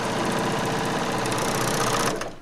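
A close sewing machine runs steadily along a T-shirt seam, a dense continuous rattling whir that holds for about two seconds before slowing to a stop.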